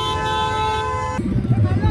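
In heavy traffic near a clock tower, a car horn blares in one sustained toot for over a second, then engine rumble and a nearby voice continue.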